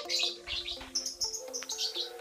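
Thin, high chirps from newly hatched dove chicks, a crossbreed of Sinom and local Derkuku, in a rapid irregular series of close, fairly soft peeps with no talk.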